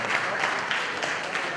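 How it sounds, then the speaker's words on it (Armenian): An audience at a wedding celebration applauds a married couple with dense, steady clapping that is close and even throughout a short burst. "կարելի է ծափահարել, չէ՞, այդ խորհրդանշական հետաքրքիր պատմությանը"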